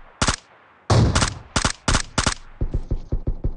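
Gunfire in PUBG Mobile during a squad match on the Sanhok map: several loud, sharp bursts of rapid shots with short gaps, then a steady rhythmic run of quieter single shots.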